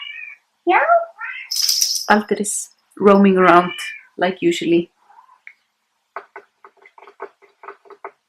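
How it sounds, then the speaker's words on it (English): Cat meowing and caterwauling in several drawn-out cries indoors, with a person speaking over and between them and soft clicking afterward. "if you can hear meowing"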